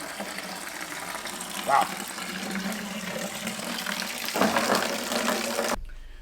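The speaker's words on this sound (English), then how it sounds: "Drain that coolant as much as I can" Coolant drains out of a Mazda engine in a steady splashing gush that swells near the end, with a brief exclamation from a voice partway through.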